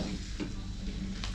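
Spices frying in a pan for Assamese mutton curry, a steady loud sizzle with a couple of soft stirring scrapes against the pan and no voices.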